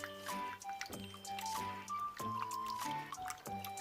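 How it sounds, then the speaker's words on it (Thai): Shelled prawns being rinsed in salt water, with intermittent splashes and drips of water close by over a background of tonal music. "ล้างน้ำเกลืออีกรอบนึงค่ะ"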